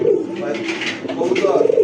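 A female racer pigeon cooing close by, a soft burbling call that swells toward the end, with faint voices in the background.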